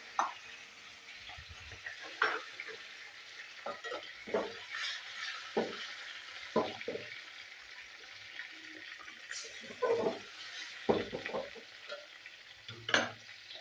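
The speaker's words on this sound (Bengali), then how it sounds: "তো প্রথমে মাছগুলো আমি ভেজে নিচ্ছি।" Quiet sizzling of rohu fish frying in mustard oil with intermittent clinks and scrapes of a utensil stirring in the pan, spread irregularly throughout.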